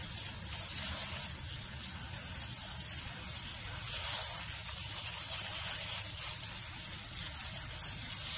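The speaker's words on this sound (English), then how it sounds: "Okay, now we're going to rinse it off. Grab the hose." A garden hose sprays water over large rough rocks during rinsing, giving a loud, steady hiss and gush that runs throughout with no break and no talking.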